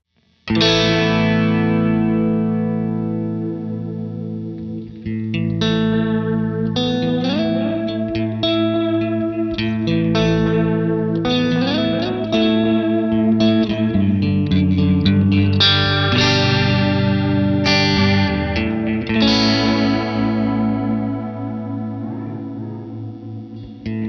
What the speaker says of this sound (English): So with this shorter delay, you hear a lot more of that warping effect